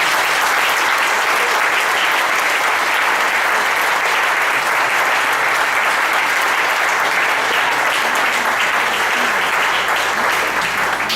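A church congregation at an Assembleia de Deus Bible school service breaks into applause: thick, continuous clapping from many hands holds at an even, loud level for around eleven seconds.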